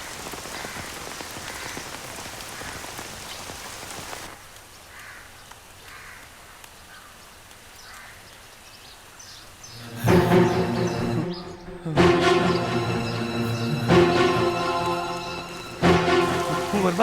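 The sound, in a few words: very heavy rain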